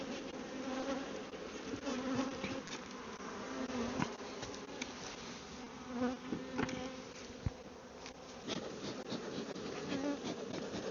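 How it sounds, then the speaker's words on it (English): Dense, continuous buzzing of many honeybees at close range during a hive inspection, rising and falling slightly, with no voices. "Two full boxes of bees."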